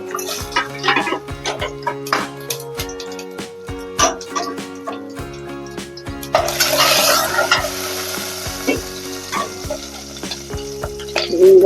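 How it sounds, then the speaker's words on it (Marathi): Oil crackles and sizzles loudly in a pan as garlic, then mustard seeds and cumin, are dropped in, with clinks of a spoon stirring and sputtering bursts rising midway. "लसूण फोडणीला घातले आता राई जिरं पण घालून घेते"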